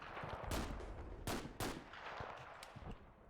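Distant mortar and gunfire booms in the war game Combat Mission: Fortress Italy, several sharp blasts spaced irregularly over a low rumbling background, fairly quiet overall.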